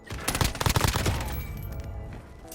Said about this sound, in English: Oh shit, they're shooting at me.